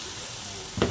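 Scrambled eggs frying in a pan give off a steady close sizzle, with a brief scraping stir right at the end.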